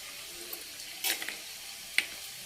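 Okra slices fry in a pan over a medium flame for a South Indian stir-fry, giving a soft, steady hiss with a few sharper spatula scrapes and clicks, close and fairly quiet.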